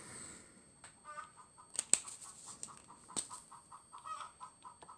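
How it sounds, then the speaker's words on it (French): A hen squawks and clucks in a run of short, repeated calls, fairly close, with sharp clicks and rustling in between and no talk over it. "la poule se met à brailler à ce moment."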